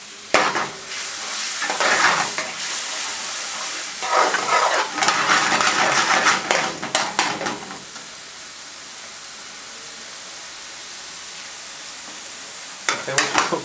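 Tomato paste frying in a pan for lamb karahi, loud bursts of sizzling and stirring that come in waves, ease into a low steady hiss, then flare up again near the end. No one speaks.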